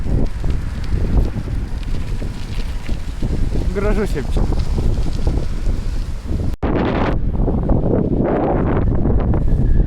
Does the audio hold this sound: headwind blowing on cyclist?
yes